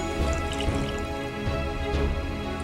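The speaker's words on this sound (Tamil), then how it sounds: "தண்ணி சேர்த்துக்கோங்க." Water is added to a pan of simmering Tamil egg gravy masala (kuzhambu) made with broken-in eggs, giving a continuous close splashing, trickling wash that runs steadily throughout without any voice.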